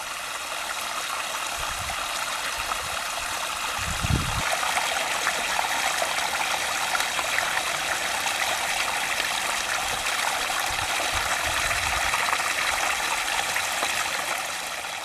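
Water trickles and flows steadily in a stream feeding an old village washing pool in El Cenallo, Andorra, Teruel, a continuous close babble with a brief low thump near the middle and no talk.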